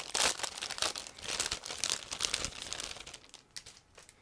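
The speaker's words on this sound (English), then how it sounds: "figurines are separated into a separate plastic bag actually, so I'm going to open it right now." Plastic bag holding ICM 1/35 scale model kit figurines crinkling and tearing as it is opened, a close, loud run of crackly rustles over about four seconds that tapers off near the end.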